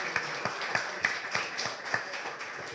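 A crowd at a summer university event in Soveria Mannelli applauds for the birthday of the mayor, with sparse, fairly distant clapping whose claps land roughly every third of a second, steady and moderate.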